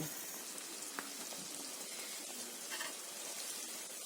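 Homemade neelibringadi hair oil foams and bubbles as it heats in a pan: a steady, fine crackling sizzle, fairly soft and continuous, with occasional small pops and no talking.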